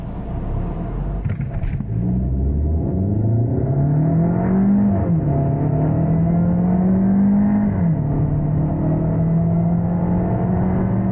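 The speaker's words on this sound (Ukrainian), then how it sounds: "Принаймні там за свої 8 секунд першу сотню він набирає легко." A Peugeot 408 accelerates hard from a standstill. Its engine note climbs steadily and drops at two gear changes, loud and close with no talk.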